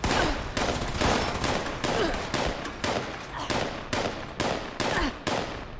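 Rapid bursts of gunfire from Fallout 76 (Wastelanders raider questing), about eight sharp, loud shots repeating at a steady rhythm, close and dominant with no talk over them.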